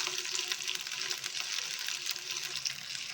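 Green-coloured fish fry crackles and sizzles in a pan over a medium flame, a soft continuous hiss close by, with no talking.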